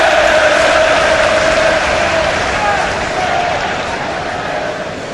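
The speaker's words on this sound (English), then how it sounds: "And the crowd respond accordingly." Football stadium crowd at an Everton home match against Fulham cheering and applauding, a loud, dense roar that starts strong and eases slightly, with voices mixed into the noise.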